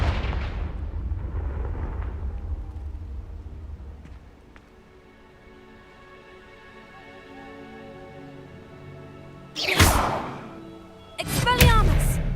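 An explosion from the Confringo spell in Hogwarts Legacy: a deep rumbling blast fades into a long, low tail, followed by two sharp, bright bursts near the end.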